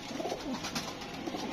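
Pigeons coo softly and repeatedly among a flock kept by a fancier, with low burbling calls over a steady background hiss.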